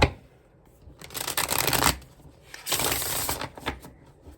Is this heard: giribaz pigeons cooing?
no